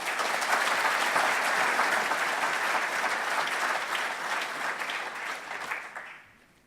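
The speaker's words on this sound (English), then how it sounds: "Ladies and gentlemen, a warm round of applause," A seated audience at a council meeting on homelessness claps warmly and steadily for several seconds, a dense, even wash of hands that fades out at the end.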